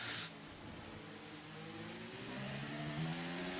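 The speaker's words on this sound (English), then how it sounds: "you can hear the car struggling for traction" A race car on a twisty track in Texas struggles for traction in tricky conditions, its engine droning and climbing in pitch as it revs, heard at a distance under a light broadcast background.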